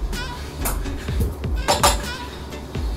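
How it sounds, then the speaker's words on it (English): A utensil scrapes and clinks against the bottom of a pan of cooking beef and its juices, with short metallic scratches and taps close by, partly under speech. "Now what I'm doing is kind of scraping the bottom of my pan to get all of that goodness"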